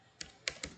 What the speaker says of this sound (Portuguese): digitei só a palavra horário